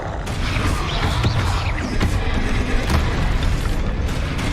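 Explosive Confringo spell blasts in combat in Hogwarts Legacy: dense, loud booms and crashing impacts that follow each other continuously, with no clear pauses between hits.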